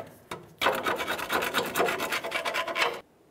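Rusted, raised spots are scraped off the top of a 2004-2015 Nissan Titan strut tower in a quick run of rhythmic, raspy strokes lasting about two and a half seconds, close and moderately loud after a brief earlier scrape.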